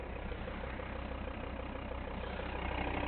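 A 2014 Volvo V60 engine idles with a steady, even rumble, close and continuous with no revving or voices over it.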